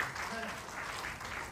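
Congregation applause at a GBI church service in Glodok, Jakarta, a steady dense clapping wash filling the room at moderate level, with some voices mixed in underneath throughout.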